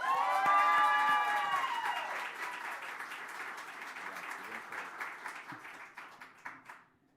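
Audience applause fills a hall at an engineering society chapter celebration, loudest at the start alongside a brief tonal swell, then settling into a steady patter of clapping that thins and stops near the end.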